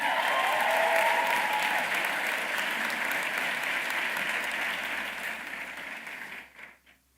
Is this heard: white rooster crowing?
no